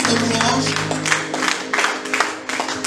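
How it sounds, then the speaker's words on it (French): A church congregation at a gospel service claps and cheers in a dense, loud burst of applause over a sustained instrumental drone, with crowd voices mixed in. "Acclamons fort le Seigneur"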